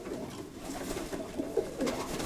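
A pigeon hen coos softly in a few brief low murmurs over a steady background hum, fairly faint and close.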